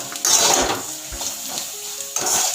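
Vegetables with turmeric are stirred in a pan for chire pulao, giving close scraping and clinking of a utensil against the pan over a soft sizzle, in uneven strokes.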